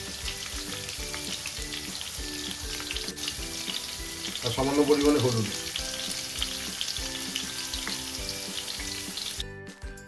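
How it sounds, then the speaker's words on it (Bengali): Potatoes with a little salt and turmeric fry in hot oil for a mutton kosha, giving a steady, close sizzle that runs the whole time, with someone speaking briefly over it. "তেল গরম হয়ে গেছে, আমরা আলুগুলো দিয়ে দেবো।"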